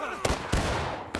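Infantry gunfire in a Civil War-era battle game, heard as three separate sharp shots over a steady noisy background of distant battle ambience.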